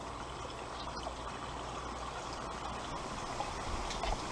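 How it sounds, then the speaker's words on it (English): Water pours and trickles steadily down the open top radiator pipe of a Willys L134 Jeep engine during a flush, a continuous close splashing flow with no talk. "I'm going to shove water down in here"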